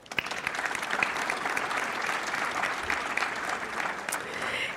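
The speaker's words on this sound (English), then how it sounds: "A big applause for him." A conference audience applauds at an award ceremony, sustained dense clapping from a large crowd, fairly distant and even, for several seconds without speech.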